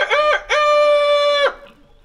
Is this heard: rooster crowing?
yes